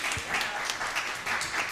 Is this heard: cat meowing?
no